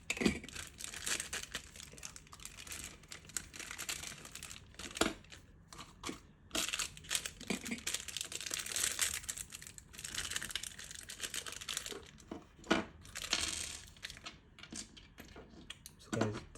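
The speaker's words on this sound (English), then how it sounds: "let me just cut it open." Plastic packaging around a fan speed controller crinkles and tears as it is cut open and unwrapped, with irregular rustling bursts, crisp crackles and soft scrapes close by.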